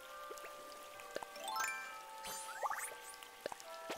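Soft rain falling in Animal Crossing: New Horizons, a faint, steady patter with light droplet ticks, layered with gentle tonal game music and chimes.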